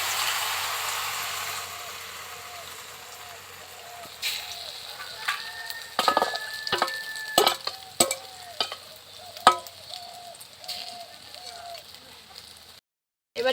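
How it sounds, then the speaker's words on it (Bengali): Batter hits hot oil on a nonstick tawa with a broad sizzling hiss, followed by a run of sharp clicks and scraping as it is spread. The sound cuts off briefly near the end. "তেল গরম হয়ে গেছে, এবার মিশ্রণটা ঢেলে দেব"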